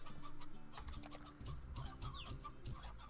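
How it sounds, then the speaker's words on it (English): Hens clucking in the farming video game Slime Rancher, a run of short repeated clucks and chirps near the listener over a steady low game-music bed. "And another full-grown hen."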